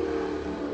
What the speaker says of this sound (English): That car look crazy. You hear that? That's what I want my car to sound like.